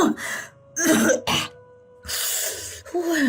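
A person coughs and clears their throat in several harsh bursts, close up, separated by short quiet pauses.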